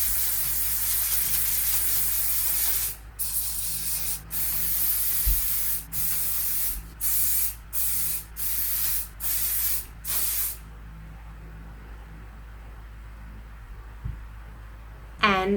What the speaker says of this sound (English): And then I spray the living daylights out of it so it does not move